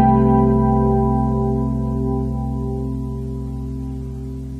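A single piano chord voiced with a seventh and a fifth doubled an octave higher rings out alone, sustaining and slowly fading over a few seconds.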